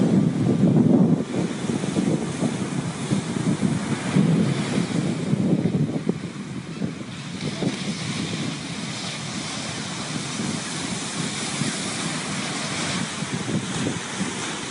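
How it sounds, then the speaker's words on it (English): Ocean waves break and wash onto a sandy shore, a loud continuous surf that swells and recedes under heavy wind buffeting on the microphone, with no voices. "just listen to the beloved ocean of Gaia's body"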